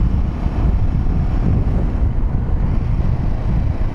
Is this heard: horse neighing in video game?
no